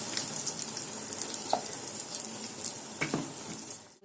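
Ground tomato paste with tamarind sizzles and bubbles steadily in a pan while being cooked down for tomato thokku, a continuous close frying hiss with a few small pops and no talk.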